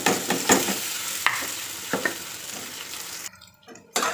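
Potatoes tumble into a hot frying pan and are stirred, giving a bright, close sizzle with scraping strokes that cuts out briefly and then returns.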